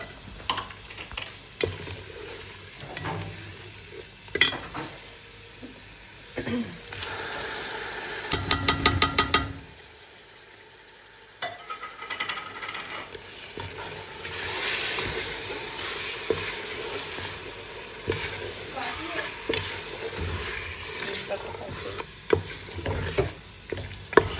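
Chicken frying and being stirred with spices in a pan before pressure cooking with tomato and water, a steady sizzle with repeated scraping stirs that briefly cuts out midway, then resumes.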